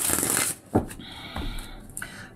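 A deck of tarot cards is shuffled up close in quick riffles and rubbing slides, a hissing burst at the start followed by a few shorter scrapes and taps with pauses between.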